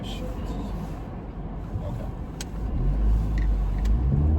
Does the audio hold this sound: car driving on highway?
yes